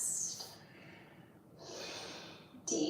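Slow, deep breaths during a yoga stretch, quiet and close, with a long exhale, a pause, then another drawn breath and a sharper intake at the end.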